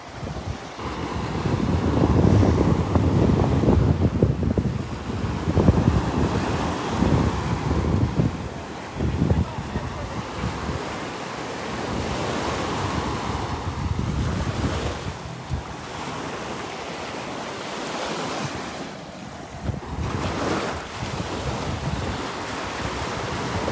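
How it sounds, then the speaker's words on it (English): Northeast wind buffets the microphone in heavy gusts at Delnor-Wiggins beach while surf rolls and washes nearby, the roar easing and rising again with no talking. "It's gonna be windy out here."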